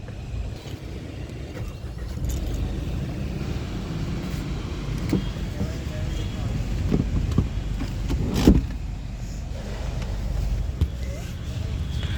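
A 2024 Maruti Swift VXi car running with its engine on, a steady low rumble held close for the whole stretch, with a few brief clicks and knocks over it and a voice speaking at moments.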